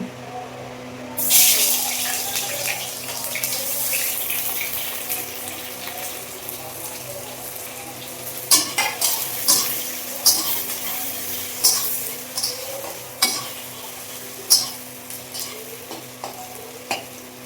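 Chopped onions fry steadily in hot oil with a constant sizzling hiss, broken by occasional sharp clatters of stirring and utensils against the pan.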